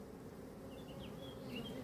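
Honeybees buzz around a lifted hive frame during colony splitting, a faint, steady insect drone with a few brief, higher passes as individual bees fly close.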